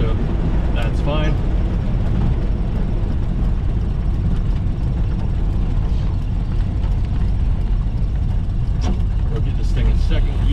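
A Ford Model A with a flathead V8 on a Burtz block lugs in low gear, a loud low rumbling drone under steady road noise, with someone talking over it throughout.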